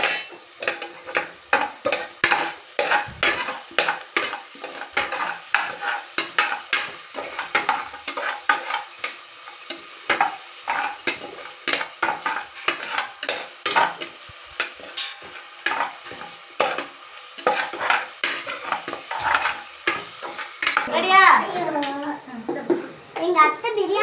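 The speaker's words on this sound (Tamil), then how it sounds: "நல்லா கிண்டிக்கலாம்." Biryani ingredients being stirred and sautéed in a pan, with repeated scraping and stirring strokes over a steady frying sizzle, while someone talks throughout.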